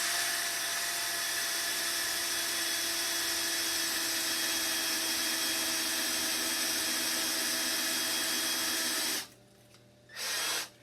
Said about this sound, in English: So line it up, drill it.